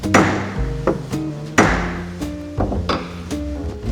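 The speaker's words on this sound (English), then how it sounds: "Take the side of the hammer and give it a good." Several sharp metallic taps from a hammer striking a screwdriver into a stuck screw in a wooden boat ring out at uneven intervals, each leaving a short resonant ring, close and fairly loud with no talking.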